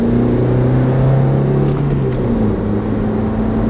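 A car engine revving with a steady harmonic whine that dips slightly as the driver shifts into second gear, loud and close inside the cabin, with no speech.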